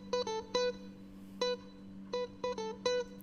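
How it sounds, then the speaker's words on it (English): A Fender Strat lead loop picks short, bright, plucked notes in a syncopated pattern over a steady low hum, faint and alone with no voices. "I just recorded like a little like loop on my Fender, my Strat"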